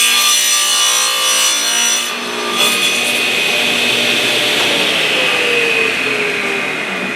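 Table saw blade cutting wood for a picture frame, the cut chipping the stock; a loud, steady high whine runs without a break, with a slight dip partway and a slowly falling tone near the end.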